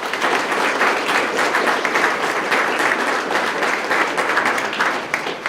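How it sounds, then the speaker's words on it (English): Sustained applause from an audience at a Sarasota police swearing-in and promotional ceremony, honoring promoted officers; dense, even clapping fills the room steadily throughout. "So let's give all of them a round of applause for all their hard work"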